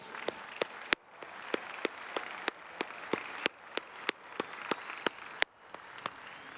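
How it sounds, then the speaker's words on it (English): Applause for the graduating class at the Ohio State University Spring 2024 commencement: sharp individual claps at a steady beat over a soft crowd wash in a large venue, moderately loud. "let's one more round of applause for the class"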